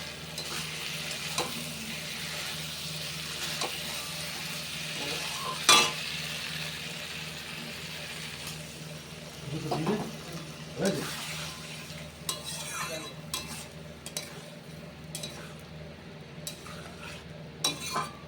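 Nigella seeds and dried red chilli sizzle steadily in hot oil while being stirred with a spoon, the frying hiss continuous throughout, punctuated by scraping and a few light metal clinks against the pan.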